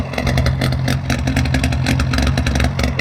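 Exhaust note of a DKW car with a three-cylinder two-stroke engine, loud and close, a steady, deep, rapid burbling pulse that carries on without pause while the car is driven.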